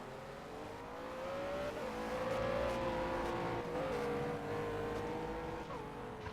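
GT race car engines in an endurance sim race at Bahrain rise and fall in pitch as they accelerate and shift, holding a continuous loud drone with no voices.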